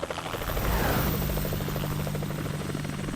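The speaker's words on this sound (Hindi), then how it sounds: "अच्छा, वो मेरा हेलीकॉप्टर है।" A cartoon helicopter flies steadily with a loud, continuous rotor chop and engine whine, close and alone with no voices over it.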